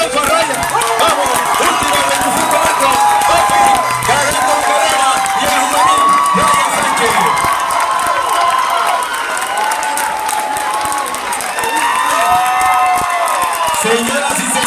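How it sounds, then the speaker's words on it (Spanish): A large crowd at a track meet cheers and applauds an 800 m runner, a loud, continuous roar with shouts rising and falling throughout. "Vamos, al aplauso a Ryan."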